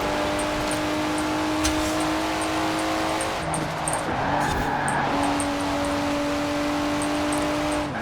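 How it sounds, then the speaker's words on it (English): A 1990s Nissan Skyline engine drones in the Forza Horizon 4 racing game, a steady tonal hum with pitch shifts as it revs and changes gear, heard alone and close. "the Skyline makes a phenomenal engine noise"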